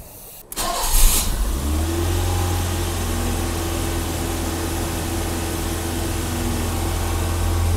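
A BMW E30 engine starts and then settles into a steady, moderately loud idle after a throttle plate adjustment, with a brief rev near the start and the rest a constant hum with no talking.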